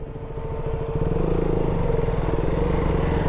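A motorcycle runs along a forest track in the Ramanagara woods, its engine a steady throbbing drone at moderate loudness that builds slightly at the start, then holds with a pulsing rhythm.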